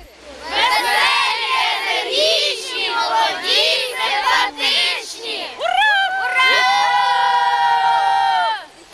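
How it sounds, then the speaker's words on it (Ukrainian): Children shout a victory chant together in bursts while building snowmen outdoors, a loud close crowd of young voices rising into long sustained cheers and whoops near the end. "малеча час від часу вигукує переможний девіз"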